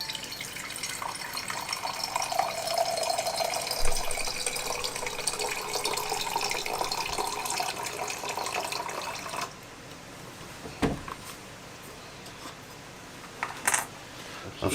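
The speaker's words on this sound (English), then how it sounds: "I'm going to help it by giving it a little bit more water." Water is poured from a tap or bottle into a laboratory flask to dissolve a substance for a chemistry solution, a steady filling rush for most of the stretch, then stopping abruptly, followed by quieter faint drips and clinks.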